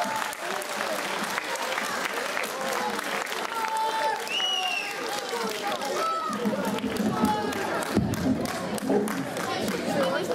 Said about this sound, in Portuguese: Batam palmas quem hoje foi sportinguista.